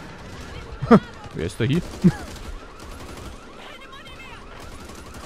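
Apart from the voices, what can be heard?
gunfire in the video game Back 4 Blood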